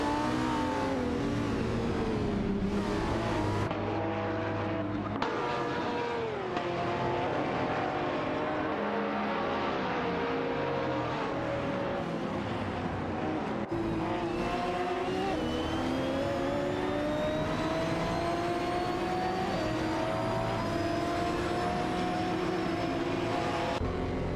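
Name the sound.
race cars Aston Martin DB Race 9 battling, video game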